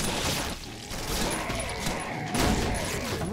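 Rapid gunfire from a weapon in the video game Killing Floor, a dense continuous burst of shots that stays loud throughout, briefly cutting out then resuming.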